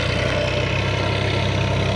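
A '76-model 480 tractor engine runs steadily at a close, even idle on a farm plot, with a constant low throb and no change in pace.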